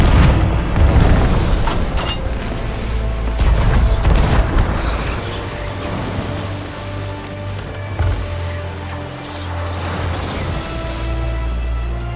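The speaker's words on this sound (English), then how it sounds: "ready the cannon!" Heavy booming blasts of cannon fire in the video game Sea of Thieves roll out repeatedly over a rumbling, wave-like background, loud and deep, in a battle soundscape.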